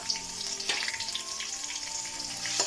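Ginger sizzles in hot coconut oil with a gentle continuous crackle, broken by a couple of sharp clinks from a utensil, heard up close with no talking.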